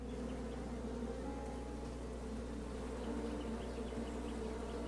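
A swarm of bees buzzes steadily around a hive in the King's Quest video game, a dense, continuous drone that stays close and even for the whole stretch, with no voices over it.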